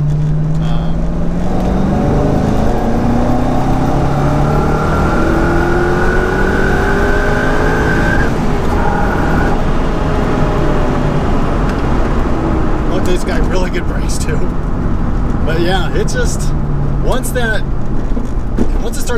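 A Corvette Z06 accelerating hard and building boost, its engine note rising and droning loudly and close throughout.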